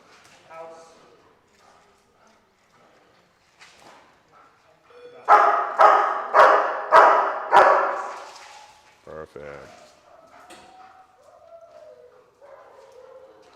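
A dog in e-collar training barks on cue, five loud, evenly spaced barks in quick succession, with a trainer speaking softly before and after.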